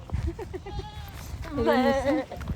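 A goat bleats on a bougainvillea farm, giving a wavering, drawn-out call near the end, with people talking throughout.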